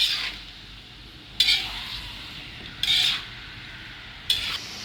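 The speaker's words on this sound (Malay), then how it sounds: "Gaul-gaul dulu." A utensil stirs frying chicken in a wok, giving three or four distinct scraping sweeps against the metal over a low, steady sizzle.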